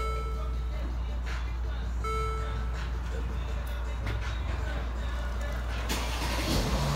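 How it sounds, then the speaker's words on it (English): A 2015 Mercedes ML350 idles after a remote start, a steady low engine drone with constant hum and occasional faint clicks and a brief tone nearby. "There we go, is your start. Vehicle's running. ML350."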